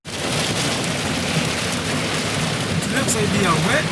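Steady, heavy rain hisses continuously in a game park, a loud, dense wash of droplets that holds for the whole stretch, with faint voices surfacing near the end.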